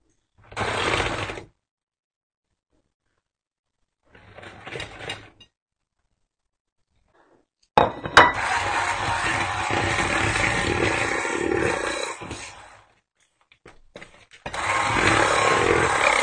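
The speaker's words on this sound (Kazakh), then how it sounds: "крахмалымызды қосып миксерлейтін боламыз." Electric mixer beating starch into cream for a strawberry cake, heard in two short bursts and then a long steady whir of about five seconds, stopping briefly before starting again, loud and close with no talk.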